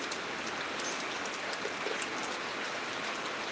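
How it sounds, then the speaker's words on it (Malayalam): Heavy rain pours steadily in Changanacherry, Kerala, a dense, even hiss of drops hitting surfaces that fills the whole stretch without a break. "ഇന്നത്തെ മഴയാണ്"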